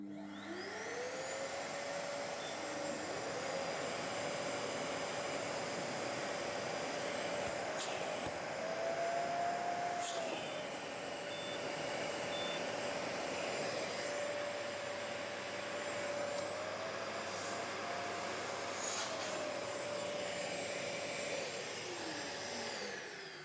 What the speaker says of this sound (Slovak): Teraz vyskúšam zapnúť obidva vysávače.